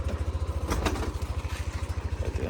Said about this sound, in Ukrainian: Заводиться він безшумно, тут стоїть магнітний стартер.